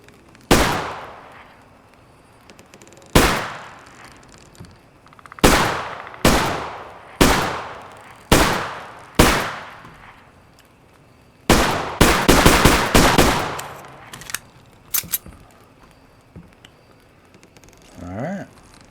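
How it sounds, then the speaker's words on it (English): Single pistol shots ring out one by one in the Bigfoot game, each a sharp crack with a short decaying tail. About nine spaced shots come first, then a fast cluster of several, then quiet. "I guess I could always use the pistol."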